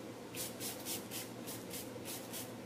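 Tarte Rainforest of the Sea Marine Boosting Mist setting spray is pumped in a quick series of about eight soft, rhythmic spritzes, close and faint.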